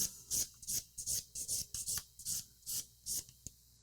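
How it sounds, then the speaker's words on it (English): Close, rhythmic rasping of a nail file drawn in long strokes across a fingernail to bevel the free edge, about a dozen bright scraping passes evenly spaced with short gaps of silence between them. "This is my favorite step of filing."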